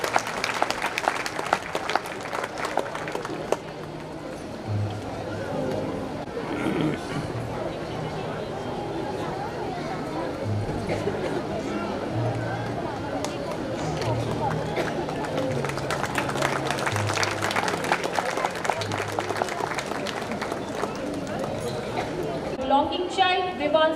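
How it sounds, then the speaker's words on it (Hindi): An audience at a school annual day function applauds children, with sustained, dense clapping from a large crowd lasting throughout, mixed with background chatter and voices. "I request you all to please give a huge round of applause for them."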